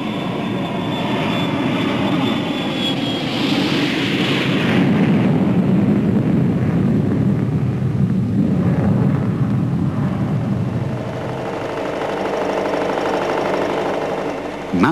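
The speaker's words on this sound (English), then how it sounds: "Mounted on this vibration tester is electronic equipment designed for service on an aircraft." A vibration tester shakes aircraft electronic equipment, producing a loud, continuous machine roar and rumble that swells and eases in intensity, with no talking.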